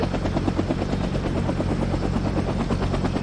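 Huey helicopter in the Vietnam 65 video game, a loud continuous rotor thump and engine drone with no pauses, mixed with rapid gunfire-like crackle throughout.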